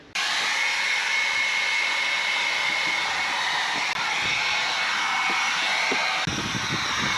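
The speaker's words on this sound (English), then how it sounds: "the only way we're going to get it out is by giving it a bit of a blow dry" Steady, loud whooshing blast of air blowing desert dust out of a camper van's engine bay, a continuous close roar with a faint high whine that barely changes for about seven seconds.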